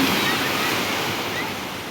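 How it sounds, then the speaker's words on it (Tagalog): Rough sea waves breaking at La Mella beach in Marbella, Spain, a loud continuous wash of surf with wind rushing across the microphone. "Maalon siya"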